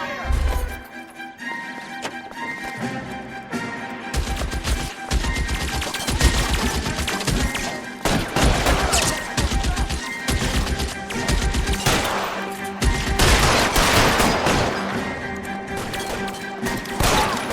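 Sustained gunfire in an L.A. Noire shootout, dense overlapping bursts of shots and impacts rattling continuously at close range with music underneath and occasional voices.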